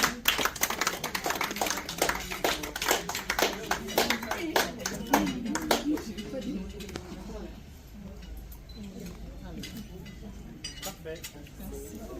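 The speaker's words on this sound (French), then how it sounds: "Applaudissez pour elle, s'il vous plaît." A crowd applauds indoors at a 40th birthday party, with a dense burst of clapping that thins out, while voices chatter and dishes clink in the background.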